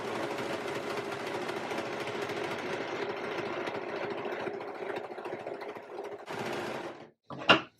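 Sewing machine stitching elastic onto a fabric seam for a tie-strap romper, a steady close whirring run for about six seconds, then a short pause and a brief final burst.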